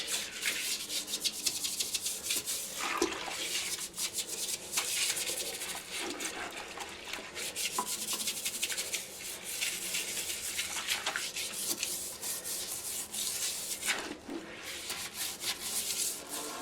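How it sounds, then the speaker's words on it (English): A brush scrubs a toilet in steady, continuous rubbing strokes, close to the microphone and moderately loud, with faint watery swishing and no voices. "And next is the toilet. And then the old brush."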